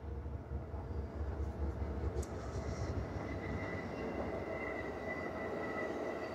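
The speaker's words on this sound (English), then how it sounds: "Oh my God, there's a train." A train rolls past nearby outdoors, a steady heavy rumble of wagons and wheels with faint squeal, continuous and loud for the whole stretch, no talking over it.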